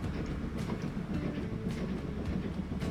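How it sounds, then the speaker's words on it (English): A steam train rolls along a cross-country line in the rail management game Transport Fever 2, with a steady close rumble and rhythmic clickety-clack of wheels on rail joints, heard alone without voices. "I hear a train."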